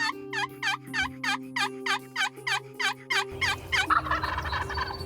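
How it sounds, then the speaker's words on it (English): Wild turkeys gobble in the field during a turkey hunt: a rapid series of about a dozen loud, rattling gobbles in quick succession, some overlapping, ending in a burst of mixed noise. "These birds have been gobbling since the time we stepped foot out of the truck"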